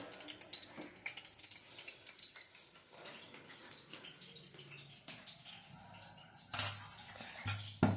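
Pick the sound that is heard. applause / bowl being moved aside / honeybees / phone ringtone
bowl being moved aside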